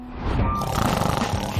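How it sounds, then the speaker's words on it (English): A person snoring, one drawn-out rough, rumbling breath that swells up and holds for over a second, fairly close and moderately loud, without speech. "She's snoring."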